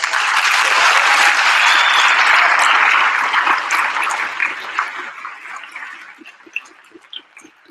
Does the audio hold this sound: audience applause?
yes